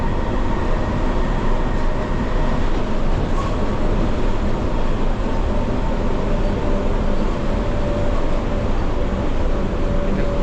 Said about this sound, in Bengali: এটা কম্পিউটার চালিত ট্রেন।